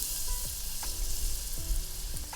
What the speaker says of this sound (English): start stir frying the aromatics